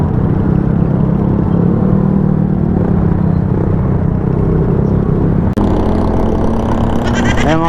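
Steady low rumble of motor vehicle engines in heavy road traffic in Antipolo, with motorcycles idling and crawling nearby, loud and continuous, with a sharp shift in the noise late on.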